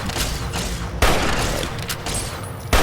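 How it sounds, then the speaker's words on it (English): Rapid bursts of gunfire in Fallout: New Vegas, a dense, loud fusillade of shots with heavy booming impacts, one sharp jump in intensity a third of the way through and another near the end. "I run through here, I shoot a few people pretty well"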